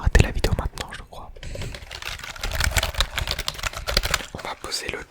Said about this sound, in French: On va poser le triggers clavier, mon tout premier triggers.